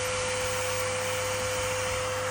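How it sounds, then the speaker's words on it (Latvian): Old Karcher vacuum cleaner running loudly, a constant motor whine with a steady tonal hum, close and unbroken with no voices. "cik ir skaļš vecais sūcējs"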